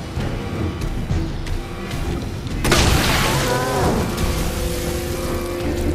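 Fire rounds exploding in the Resident Evil 2 remake: a sudden heavy boom breaks through a low rumbling game ambience and rolls on as a roaring burst before settling back, with no talk.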